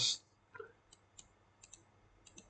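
Faint, sparse mouse clicks during 3D modeling in Profile Builder 3, about six or seven light, brief ticks spread irregularly, following a louder burst at the start, with no speech.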